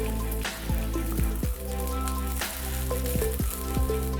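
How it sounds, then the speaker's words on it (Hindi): Pulao frying in desi ghee in a kadhai, a steady close sizzle with recurring clinks and scrapes of a spoon stirring the rice against the pan. "सबसे पहले कढ़ाई में 1 चम्मच देसी घी डालेंगे और पुलाव को भी इसमें डाल देंगे"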